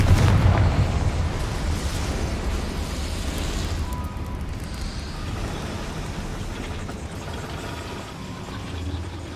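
A Confringo spell blast in Hogwarts Legacy: a loud, broad rumbling burst at the start that slowly fades into a sustained noisy tail.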